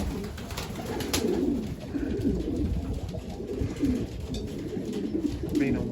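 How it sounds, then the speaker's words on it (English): Stock pigeons coo nearby in a loft or shed, repeated soft throaty rolling calls over a faint background rustle, with several coos overlapping across the span. "stock pigeons"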